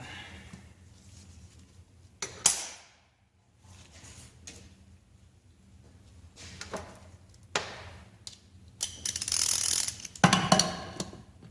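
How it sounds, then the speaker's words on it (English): A wrench loosens bolts on a 45-year-old engine during a teardown, giving sharp mechanical clicks and ratcheting bursts between quiet pauses, with the loudest grinding clatter near the end. "Get a wrench on that now to loosen them"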